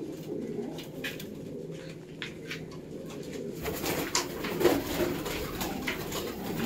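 Breeding pigeons coo in a continuous low murmur close by, the calling growing busier and louder partway through, with a few faint scuffles in the background.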